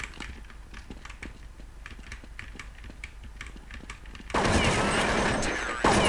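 Counter-Strike 1.6 gameplay: rapid clicking of a computer keyboard and mouse runs throughout, then a loud burst of continuous automatic gunfire erupts near the end and fills the rest of the clip.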